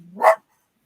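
A single sharp bark from a pet dog indoors, close and loud, rising quickly and cutting off abruptly, followed by silence.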